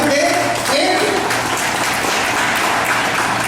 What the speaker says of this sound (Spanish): le voy a pedir que le dé un aplauso fuerte al Señor